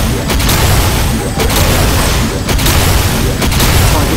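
Particle accelerator weapon firing in the MapleStory game against the Chaos Von Bon boss, dense rumbling booms and rapid blast bursts layered continuously, loud and saturated, with periodic sharper impacts and no talking.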